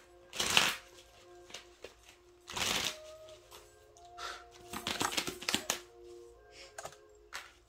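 Tarot cards are shuffled in several quick, crisp riffling bursts separated by short pauses, with lighter flicks and taps in between, close and fairly quiet.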